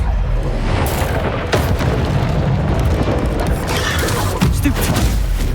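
A Bombarda explosion spell cast in Hogwarts Legacy, a loud booming blast buried in a continuous dense wash of combat noise and rumble with several sharp impacts.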